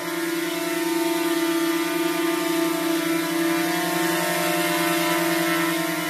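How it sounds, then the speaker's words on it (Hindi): A steady, high-pitched whirring buzz of DJI Mini 2 drone propellers hovering nearby, constant and unbroken with a slight wavering tone. "आवाज़ आपको आ रही होगी ये प्रोपेलर्स की आवाज़ है"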